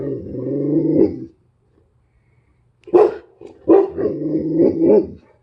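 A Cane Corso guard dog gives deep, loud, close barks: a long growling bark, a pause of silence, then a burst of rough barks that run together, with no voices.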